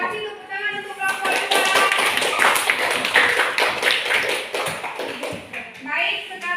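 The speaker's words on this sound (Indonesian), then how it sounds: "Kasih tepuk tangan untuk kelompok" Dense, lively applause fills a school classroom for a student group after its presentation, many hands clapping for several seconds, with children's voices mixed in and a speaking voice at the start and end.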